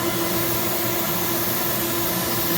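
A hot air blower shrinking heat shrink tubing while a PICO balloon is prepared for flight, a steady loud whooshing fan roar with a constant hum that runs unbroken throughout.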